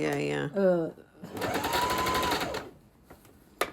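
A sewing machine stitching a facing around an armpit runs in a short loud whirring burst of rapid needle strokes, close up, right after someone speaks.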